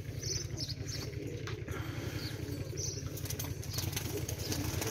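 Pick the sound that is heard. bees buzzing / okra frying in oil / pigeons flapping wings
pigeons flapping wings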